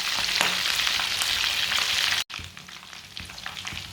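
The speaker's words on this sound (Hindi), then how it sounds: "आप देख सकते हैं छींटे पड़ रहे हैं। थोड़ा सा चूल्हे को कम कर देते हैं" Egg kebabs fry and splatter in hot oil with a steady, close crackling sizzle that briefly cuts out, then resumes slightly quieter with scattered pops.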